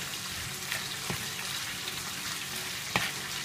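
Vegetables being stirred and tossed into a sizzling bamboo shoot soup mixture, with a steady, soft frying hiss and a few faint scraping knocks of a utensil.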